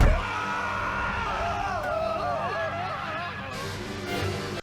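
Animated race cars shriek and wail during a multi-car racing wreck on a track, high wavering screams layered over a steady engine roar and crash noise, continuous and loud before cutting off abruptly.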